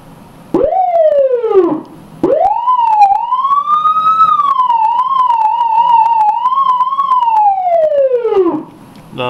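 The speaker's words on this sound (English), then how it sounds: "We're going to do a demo of the Federal Interceptor Siren." A loud Federal Signal Interceptor police siren in manual mode winds up and down: one short rise and fall, then a longer climb that holds a wavering high pitch before dropping away.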